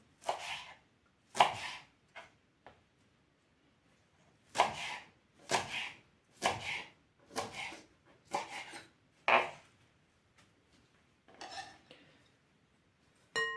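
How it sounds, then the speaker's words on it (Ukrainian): Coarsely chopping dandelion leaves with a knife on a board, a series of sharp, irregular cuts in short bursts with pauses between, close and fairly quiet. "Також ми її нарізаємо тако, крупненько"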